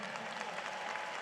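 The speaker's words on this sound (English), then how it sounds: "Let's have a round of applause for them." A commencement ceremony audience applauds faculty and administrators, a brief, faint wash of distant crowd clapping in a large venue.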